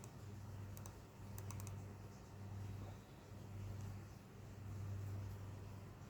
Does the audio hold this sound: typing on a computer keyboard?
yes